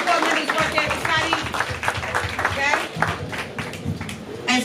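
A youth organization audience in Newark gives a sustained round of applause, dense clapping filling the room throughout with some voices mixed in.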